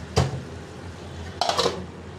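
Metal lid set onto a cooking pot of vegetables with dry fish: one sharp clank near the start, then a short cluster of clinks and rattles as the lid settles. It is close and fairly loud, with no talking.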